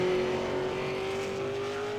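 A race car drives through the final couple of corners of a circuit, its engine a steady sustained tone heard at a distance with no voices over it.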